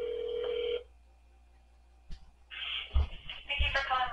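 Ringback tone on a phone call to a Walmart pharmacy, one burst of ringing over the line followed by quiet, then muffled handling noises and faint voices.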